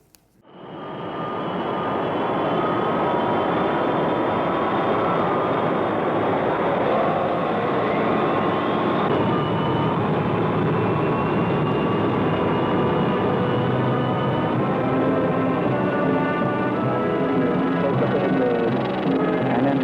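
Airplane roaring in from a quick fade-in and holding a loud, broad, steady engine rumble with whining tones for about twenty seconds, sounding close and overwhelming, with no talk.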